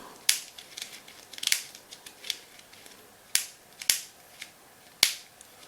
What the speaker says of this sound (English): It's like that side has got a clicking mechanism, kind of, but I think maybe it's something catching.